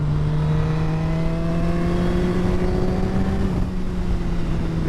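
A superbike engine, a Yamaha R1 or Honda Fireblade, holds a loud steady drone with its pitch gradually rising and then dipping near the end, heard close and alone without talk.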